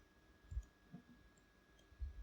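Computer mouse clicking while working in InTouch SCADA software, with a few quiet, sparse clicks close up over a faint steady hum.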